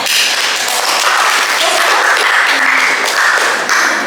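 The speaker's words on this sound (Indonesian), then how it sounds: "berikan tepuk tangan untuk kelompok 3" Loud, dense clapping fills a high school economics classroom as students applaud a presenting group; the sound is close and continuous, with a brief murmur of voices underneath.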